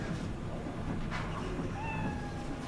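A cat in the video game Cyberpunk 2077 gives a soft, brief meow amid a steady wash of ambient game noise, faint and somewhat distant.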